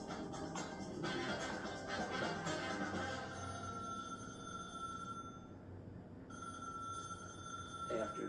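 A telephone bell rings in a steady repeating pattern, fairly loud and close, with a tonal ring that carries on through the clip and no one speaking over it.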